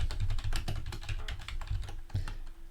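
Steady, close typing on a computer keyboard while entering spreadsheet headings, a quick run of soft key clicks with brief pauses and no voices.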